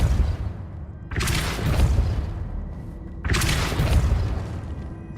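Two heavy magical blasts from the Depulso spell in Hogwarts Legacy, each a loud booming burst with a lingering rumble, spaced about two seconds apart with no talk.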